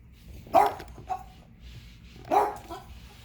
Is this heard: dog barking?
yes